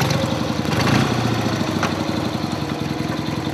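A 1957 BMW R60/2 motorcycle engine idling steadily just after starting, a close, loud, even rhythmic putter with a brief rise in revs near the start and no talk.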